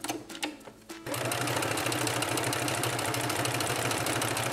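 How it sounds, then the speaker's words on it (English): A home sewing machine runs steadily, stitching a folded fabric hem on panels for a DIY teepee dog bed; brief handling clicks come first, then a loud, continuous motor whir and rapid needle chatter. "I grab my sewing machine"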